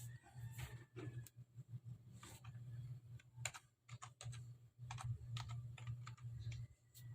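Keys clatter on a computer keyboard in quick irregular bursts of clicks, close and fairly quiet over a low steady hum, with no talking.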